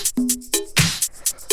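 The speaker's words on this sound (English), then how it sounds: "Then we just have like a shaker loop." A shaker loop inside a disco house groove, with quick bright rhythmic shakes riding over tonal percussive hits and a busy mix underneath.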